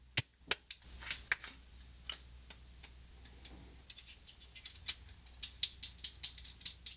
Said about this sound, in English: let's go ahead and load the Henson with a feather blade